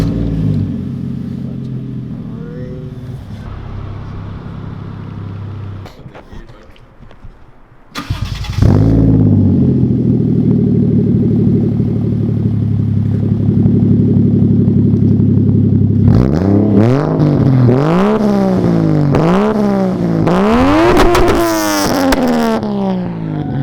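A turbocharged 1JZ-engined Toyota Crown sleeper with an HKS exhaust and a 3-inch burnt tip sits idling loudly, then cuts out briefly and barks back to life on the starter. A steady, rumbling idle follows before a series of sharp, climbing revs near the end.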